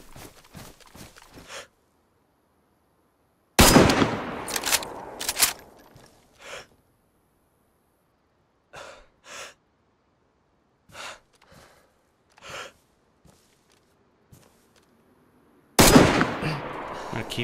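Gunfire from the survival game DayZ comes in a few loud, sharp bursts separated by long stretches of near silence, with scattered single shots and faint footsteps in between.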